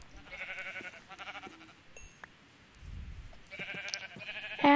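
Minecraft sheep bleat in bursts, a few loud wavering calls near the start and again near the end, with a quieter pause between.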